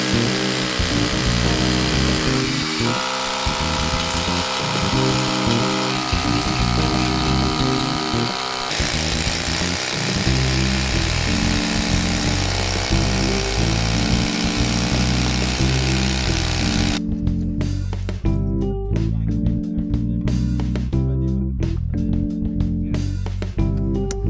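Power drill boring holes for conservatory roll bolts, a loud continuous grinding whine running the whole stretch and cutting back to rapid stuttering bursts near the end, alone without speech.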